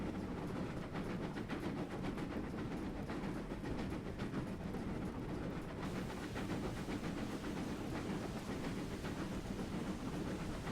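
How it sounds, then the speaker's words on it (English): A steam train runs steadily in Train Simulator 2015, its continuous rumble and hiss carrying a busy rhythmic chuffing, with a slight shift in tone partway through. "I love steam trains. They sound so good."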